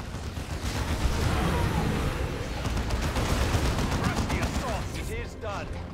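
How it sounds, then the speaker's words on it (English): Sustained covering gunfire rattles in a Warhammer 40,000: Dawn of War II battle at a fortified gate, dense bursts of shots and booms rolling continuously, thinning out near the end. "Give them covering fire."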